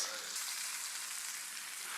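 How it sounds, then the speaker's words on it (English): Steaks seasoned with Worcestershire, crushed garlic and thyme sizzle and fry steadily in a pan while being basted with melted butter, a dense close hiss with no talk. "We're going to finish our steaks by butter basting them. Melt a little butter down into our pan."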